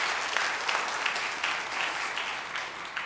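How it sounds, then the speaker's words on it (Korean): A church congregation claps together during an evening Sunday service, a moderate, even patter of many hands that carries on throughout with no speech. "우리 하나님께 영광의 박수 올려드릴까요?"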